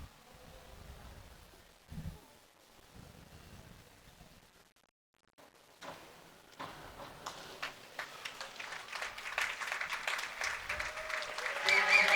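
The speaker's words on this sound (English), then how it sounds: "the crowd waits to clap until they come up out of the water" Spectators at a high school boys swim and dive meet break into applause after a diver surfaces, the clapping swelling from scattered claps into steady, loud applause in an echoing indoor pool, with talk heard earlier.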